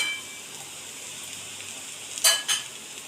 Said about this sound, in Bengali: আস্তে একে একে এগুলো ভেজে নিই